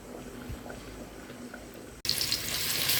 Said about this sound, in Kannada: ಈರುಳ್ಳಿಯನ್ನು ಫ್ರೈ ಮಾಡುವ.